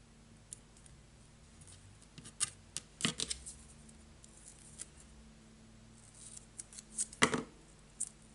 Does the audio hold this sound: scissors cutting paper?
yes